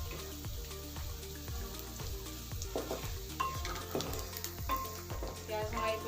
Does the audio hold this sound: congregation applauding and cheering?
no